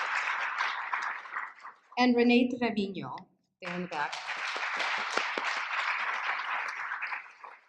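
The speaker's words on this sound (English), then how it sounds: "So if we can give her applause as well." An audience at a literature lecture claps in a scattered, crackling burst that runs beneath someone speaking into a microphone, with the clapping resuming after a short pause.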